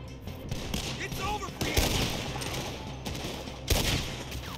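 Gunfire in the video game Red Dead Redemption 2, a busy exchange of shots with a few sharper loud cracks among dense crackling fire, mixed with game sound.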